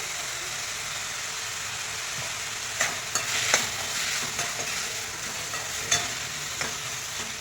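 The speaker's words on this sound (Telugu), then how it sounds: "టమోటాలు వేసి ఈ టమోటాను కూడా గుజ్జుగా కాకుండా కొంచెం మగ్గేటట్టు వేయించుకుంటే సరిపోతుంది." Tomatoes frying in a pan with a steady close sizzle, while a utensil stirs them in irregular scraping strokes.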